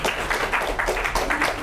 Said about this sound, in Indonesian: Sebelumnya tepuk tangan untuk pemateri pertama.